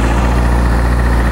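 Honda CBR600RR sport motorcycle engine running steadily after start-up, a loud, close, continuous idle with constant low rumble throughout.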